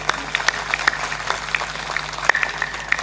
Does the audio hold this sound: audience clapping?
yes